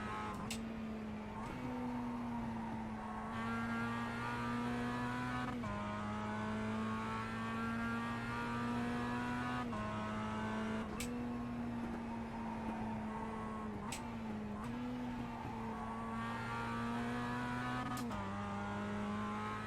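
A Mazda MX-5 Cup race car engine in the iRacing simulator drones steadily at high revs, its pitch dipping and climbing through repeated gear changes and downshifts, loud and continuous with no talking.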